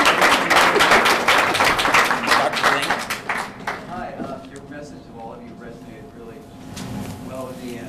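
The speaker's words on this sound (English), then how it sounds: "let's give our speakers a round of applause" Applause from an audience honoring a panel of speakers at a college park-stewardship event, loud dense clapping at first, then thinning and fading into quieter room noise with scattered claps.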